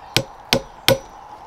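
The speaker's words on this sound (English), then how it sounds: "Because you kind of have to hammer it in there." A hammer striking spawn plugs into a mushroom log for growing shiitake and oyster mushrooms: three sharp, evenly spaced knocks about a third of a second apart, close and fairly loud, with no talking.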